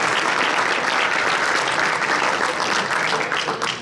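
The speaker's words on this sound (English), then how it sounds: "Round of applause for our numeral award, guys." A sports banquet audience claps for an award, dense, steady applause filling the room at moderate loudness for a few seconds and tapering slightly at the close.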